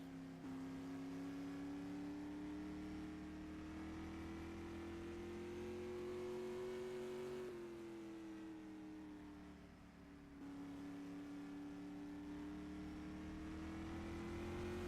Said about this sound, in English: now, driving the number 77 BreezeGraphics.com Supermodified